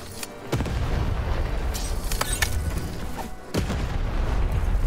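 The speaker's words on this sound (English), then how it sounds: "Shoot the button to fire the cannon." A cannon fires in the video game Lost in Random with heavy booming blasts and rumbling, dense game noise throughout, loud and continuous with sharp transient hits.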